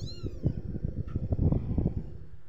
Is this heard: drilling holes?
no